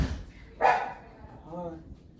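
A dog gives a single sharp bark at a middle distance, followed by a fainter, higher whine, with a person's voice present around it.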